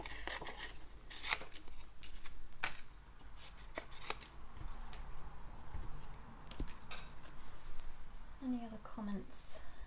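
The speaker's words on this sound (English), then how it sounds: "And then we'll just cut this one out." Scissors cut out a stamped paper card shaped like a leaf, crafted over rough paper, giving a series of short, close snipping and rustling sounds while a voice talks throughout.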